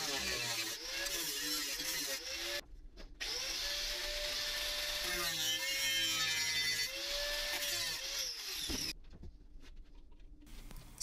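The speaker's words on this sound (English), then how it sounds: "It is important to drill through the spot weld smack bang in the middle." A power drill bores through a spot weld on a rusty Triumph GT6 MK2 windscreen frame, whining close and loud in several bursts that rise and fall in pitch, separated by brief pauses.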